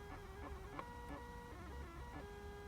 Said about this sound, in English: Tap the printer icon, and then the printer starts to print.